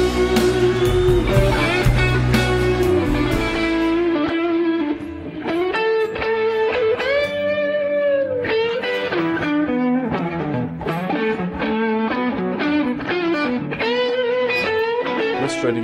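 Electric guitar, Gretsch single-coil neck pickup through compressor, tube driver and delay, plays sustained bending lead lines and chords, loud and alone with echoing tails.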